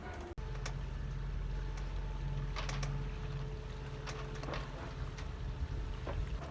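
A sailboat motors over calm sea on a long ocean passage, its engine giving a steady low drone with a faint hum and light water sloshing, quiet and continuous apart from a brief click near the start.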